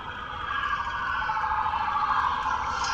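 An ambulance siren wails on the road outside, a steady, moderately faint tone sustained throughout with no voices over it.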